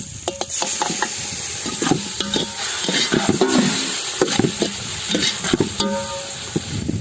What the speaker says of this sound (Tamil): வெங்காயம் வந்து பொன்னிறமாக வதங்கிட்டு அது நம்ம தக்காளியை ஓட்டலாம்